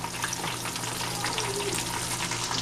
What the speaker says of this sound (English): So let them go ahead and fry